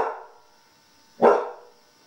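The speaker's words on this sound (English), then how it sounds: "It's idiot barking time again on Yarmouth Road." A dog barks from a house on Yarmouth Road as other dogs pass by out front: a loud bark opens and fades, then a second sharp, close bark bursts out about a second later and trails off.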